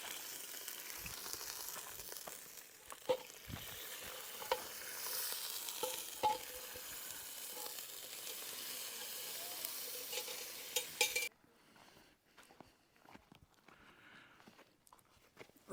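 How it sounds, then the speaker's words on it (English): Wine reducing with garlic and thyme in a pan over a campfire, giving a steady broad sizzle and bubbling for about eleven seconds before it drops to quieter crackle and faint knocks. "that wine's just reducing down a little bit. The garlic's in there and the thyme"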